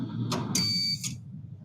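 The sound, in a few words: rolled ice cream machine defrost pedal beep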